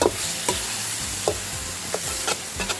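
Pork liver stir-fries with garlic and pepper in a hot pan, crackling and sizzling loudly up close as a spatula scrapes and tosses it in quick repeated strokes.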